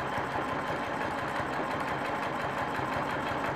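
A sewing machine stitches continuously across and up a quilt row, backtracking as it goes, a close steady rapid mechanical whirring hum for a few seconds.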